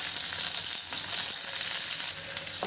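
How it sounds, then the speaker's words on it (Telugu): Chopped onions fry in hot oil with cumin seeds and curry leaves for a prawn fry, giving a steady, close, loud broadband sizzle with a few faint stirring clicks and no voices. "ఆనియన్స్ అనేవి లైట్ గోల్డెన్ కలర్ వచ్చేదాకా ఫ్రై చేసుకోండి"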